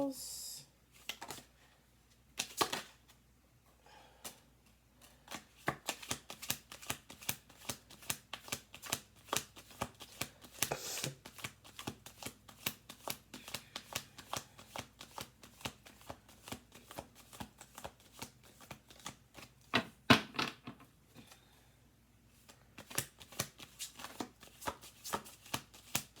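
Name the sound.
shuffling cards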